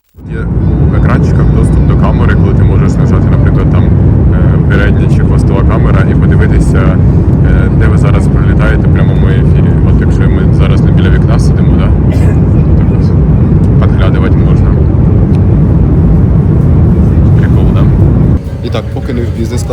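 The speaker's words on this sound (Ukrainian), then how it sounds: "Далі ми летіли 12 годин зі Стамбулу до Денпасару." Airliner cabin drone on a twelve-hour flight from Istanbul to Denpasar, a loud, constant engine and air rush that holds steady throughout and dips slightly near the end.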